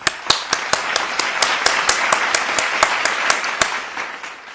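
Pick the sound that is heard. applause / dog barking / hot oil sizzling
applause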